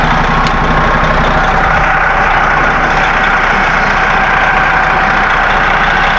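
A 12.7-liter Detroit Diesel in a 2007 Prevost H3-45 highway coach idles steadily, a loud, close, low rumble with a constant mechanical clatter and no talking.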